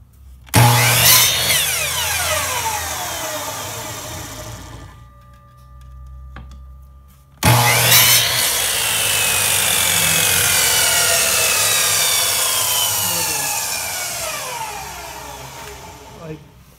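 A power saw cuts wood pieces at close range, two long loud whining cuts with a rising and falling pitch and a brief lull between them.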